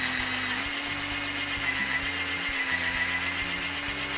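A counterbore drill bores a partial-depth hole into a wooden cutting board, a steady, continuous machine drone with faint low pulsing, heard close and alone throughout.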